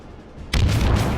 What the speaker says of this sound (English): if I fire at his ship 5 kilometers, well, now I'm missing him